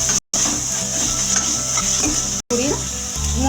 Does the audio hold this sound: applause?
no